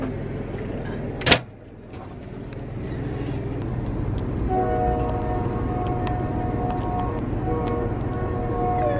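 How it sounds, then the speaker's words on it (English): A train passes near a home, a low steady rumble and rolling clatter with a sharp bang early on and tonal squeals building later, heard alongside household activity. "Did the train wake you?"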